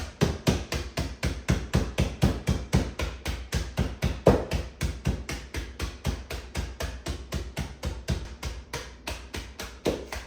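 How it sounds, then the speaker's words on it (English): Pecans are chopped in a vintage Milner nut chopper, producing rapid, evenly spaced thumping strikes, about four per second, close and loud with no talking. "This is the old-fashioned way to chop pecans. Use my trusty Milner."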